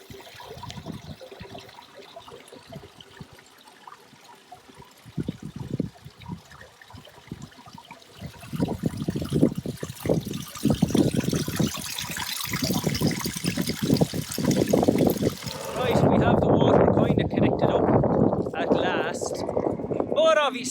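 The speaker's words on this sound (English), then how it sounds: "we'll turn on the water there now in a minute" Water runs from a water truck outdoors. Quiet rustling gives way to a rushing flow that starts about midway and grows louder and steadier toward the end, with someone talking throughout.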